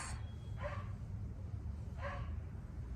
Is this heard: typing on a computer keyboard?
no